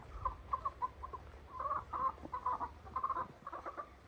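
Chickens cluck in a small backyard coop with netting around the outside, a run of short repeated clucks and murmurs, fairly close and moderately loud, with no one talking.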